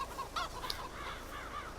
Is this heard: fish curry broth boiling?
no